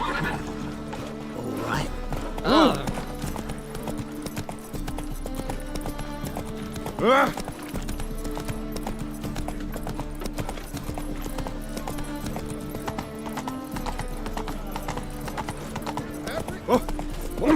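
Roach the horse in the video game The Witcher 3 gallops with steady hoofbeats and lets out two loud neighs, while a person speaks briefly over the sound.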